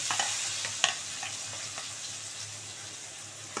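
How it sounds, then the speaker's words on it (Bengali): Sliced onion and green chilies go into a pan of frying potatoes for a ghugni dish, giving a steady sizzle with a few stirring clacks near the start, close and unaccompanied by speech. "বন্ধুরা এবার আলুটা মোটামুটি মানে ভাজা হয়ে গেছে, এবার মধ্যে পেঁয়াজ আর লঙ্কাটা দিয়ে দিচ্ছি"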